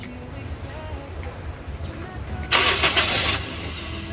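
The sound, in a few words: Toyota Corolla engine starting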